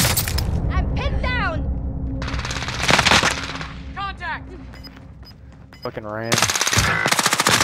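Rapid automatic bursts from a CX9 submachine gun in Warzone, several loud close volleys separated by pauses, with a player's voice talking over the gameplay.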